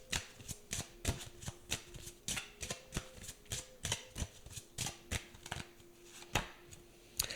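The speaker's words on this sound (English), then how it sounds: "Let's go ahead and grab one of these cards." Cards from a tarot and oracle deck being handled and shuffled close up, a quick run of crisp papery flicks and riffles in an uneven rhythm, fairly quiet and without talk.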